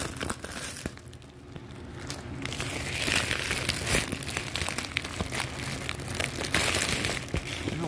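Crinkly plastic packaging on a small box being squeezed and pulled while someone struggles to open it, a continuous close crackling and rustling with sharper crunches throughout.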